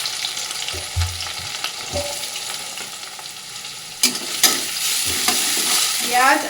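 Chopped ginger, garlic, green chillies and large onions fry in hot oil in a pan, a close, continuous sizzle broken by a few spatula knocks and scrapes, with no speech.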